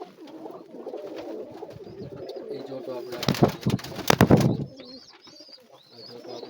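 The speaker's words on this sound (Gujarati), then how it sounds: "આ વ્હાઈટ મોજાવાળો કબૂતર, અને આ એની મદી છે" A pair of pigeons, a white feather-footed male and his hen, coo in low, repeated rolling calls close by, with a louder burst of activity midway, while someone talks over them.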